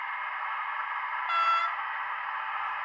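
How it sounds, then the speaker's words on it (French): A model truck's small electronic horn plays a continuous buzzy tone, close and moderately loud, with a brief brighter honk layered on top partway through. "Petit klaxon."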